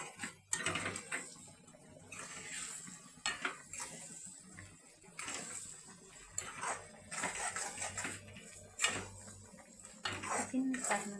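A utensil stirs cumin and coriander powder into mixed pickle in a pan, with continuous clattering and scraping of metal against metal, close and busy throughout, under a faint low hum.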